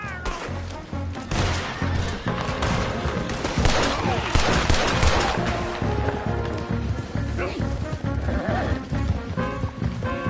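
Video game gunfire volleys crackle loudly and continuously amid horse hooves, whinnies and a chaotic action mix, with voices shouting over the din.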